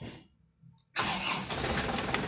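After a quiet moment, a diesel engine cranks and catches abruptly, settling into a steady, loud rumbling idle nearby.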